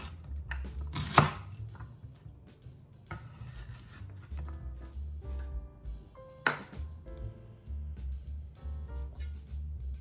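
A knife roughly chopping an onion on a board, with a few sharp knocks standing out among quieter cuts over a low kitchen hum, no talking.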